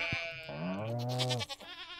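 A single goat bleats in the Stardew Valley farming game, a clear wavering tonal call lasting about a second, close and loud, followed by a brief fainter tail.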